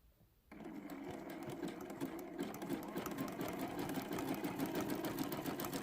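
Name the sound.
sewing machine doing satin stitch with brown thread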